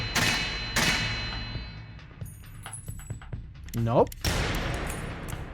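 Gunshots striking tough metal in the game Kathy Rain 2, a few sharp, loud blasts spaced apart with a metallic ring and a clanging thud, while a voice speaks briefly between them.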